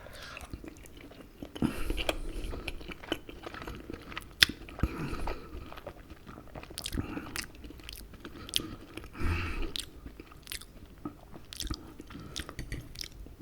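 Someone eats duck with French-style lentils close to the mic, with soft wet chewing, biting and occasional crunches at an irregular pace and no talk.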